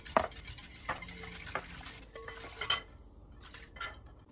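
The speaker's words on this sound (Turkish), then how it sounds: "Evet, tüm malzemeyi karıştıralım." A spoon stirs lukewarm water, sugar and yeast together in a bowl for dough, making faint clinks and scrapes against the sides. The strokes are quiet and irregular, with no speech.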